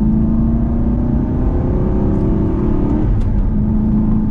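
An Aston Martin V8 Vantage with a manual gearbox pulls hard under acceleration, its engine droning loud and steady from inside the cabin, the pitch climbing gradually with no talking over it.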